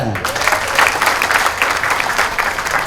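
An audience at a company gathering breaks into applause, a brisk, dense clatter of many hands, fairly near and steady, with some voices underneath.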